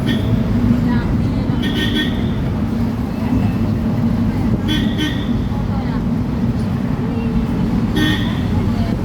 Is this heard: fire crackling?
no